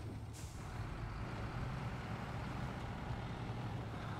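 Heavy truck in the SnowRunner video game braking hard after suspension damage, a loud continuous engine rumble with air-brake hiss, steady and close throughout with no talk.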